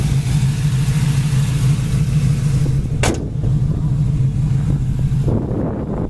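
A yellow 1968 Chevy Camaro with an Edelbrock carburetor and MSD ignition rumbles steadily up close, its engine holding a loud, even drone before revving higher near the end.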